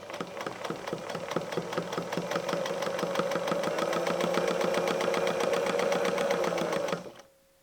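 A sewing machine stitches straight quilting lines on a bamboo patchwork block, running as one steady, rapid mechanical chatter for about seven seconds before stopping abruptly, close by and without speech.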